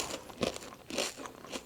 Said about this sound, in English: Do you hear this crunch,